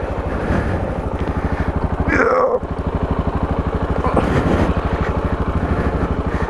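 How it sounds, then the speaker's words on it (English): An overheating motorbike engine runs steadily with a rapid putter, close and loud throughout, with a brief voice cutting in once. "That's my motorbike overheating as well"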